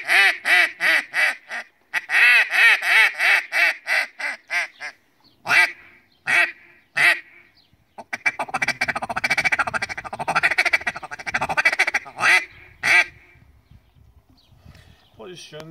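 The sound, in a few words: Reyoka duck call whistles imitating duck quacks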